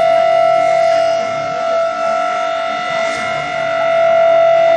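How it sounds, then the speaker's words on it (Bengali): A civil defense siren sounding during a high alert, a loud sustained tone that holds steady with a slight dip in level midway, heard alone. "কেন এখানে সাইরেন"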